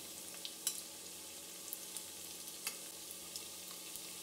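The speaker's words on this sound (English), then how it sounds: "add the fish balls and start frying" Hot mustard oil sizzles steadily with a bright, hissing crackle, small pops bursting here and there as chital fish balls deep fry, close and continuous.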